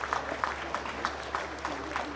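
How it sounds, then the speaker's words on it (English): At a Holstein dairy cow show, an audience applauds with a faint, distant patter of steady clapping under a low background hum. "let's give this group of cows a round of applause again"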